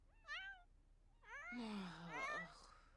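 A cat meows indoors in a house, several drawn-out meows in quick succession, the later ones louder and overlapping, with faint background noise and no other sounds.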